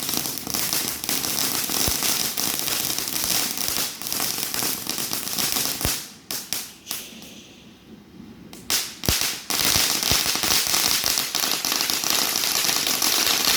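Fireworks exploding with green fire and smoke, a dense continuous barrage of loud crackling bursts and bangs, with a brief quieter lull partway through before the popping resumes at full strength.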